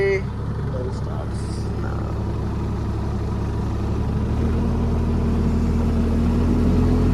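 A JCB JS30 mini excavator's engine runs at a steady, low idle in a coconut grove, a constant rumble underneath someone talking.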